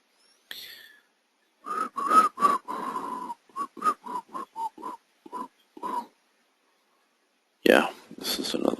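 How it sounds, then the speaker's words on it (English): A person whistles a tune in short melodic phrases, with several sustained notes and a quick string of staccato ones, loud and close against silence, with a brief breathy sound before and after. "Sorry about the whistling."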